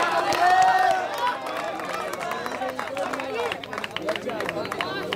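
Spectators clap and cheer at a kabaddi league match in the closing minutes, with crowd noise and applause running underneath an excited commentator's steady talk.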